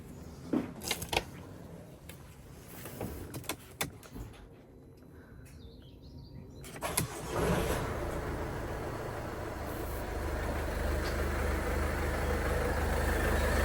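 Idling engine of a Mercedes B200d diesel with a newly fitted micro v-belt and idler pulley, a steady low hum that settles in after starting, preceded by clicks and faint bird chirps.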